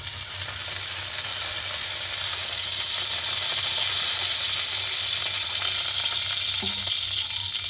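Oil heating in a pan before meat curry is cooked, giving a steady, loud, close hiss and sizzle that runs unbroken from start to finish with no talking.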